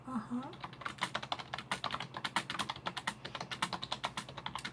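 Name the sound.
writing down answers, keyboard typing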